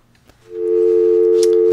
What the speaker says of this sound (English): Weird how we get a dial tone here